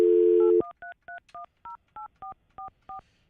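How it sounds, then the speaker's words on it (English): Telephone keypad tones dial a cell phone number on a live morning radio show, opening with a steady dial tone and then about ten crisp, evenly spaced beeps, clear and alone. "What number did I just dial, Froggy, for Fester's personal cell phone?"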